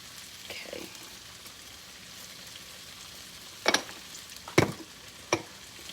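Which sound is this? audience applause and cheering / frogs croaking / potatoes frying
potatoes frying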